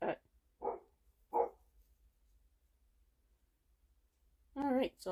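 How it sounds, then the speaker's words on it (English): A tied-up dog gives three separate barks in quick succession, then goes quiet before a longer, higher, whining yelp. "He doesn't usually bark like that."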